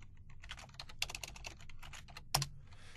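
Close computer keyboard in a Microsoft .NET SDK command prompt session, quick irregular keystrokes clicking in short bursts, ending with one sharper, louder key press.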